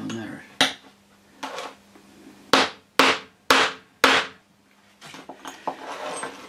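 Small oilite bushes hammered into metal recesses: a handful of sharp, ringing hammer strikes, a few spaced blows followed by four hard hits in a steady rhythm, close and loud, with quieter workshop handling noise around them.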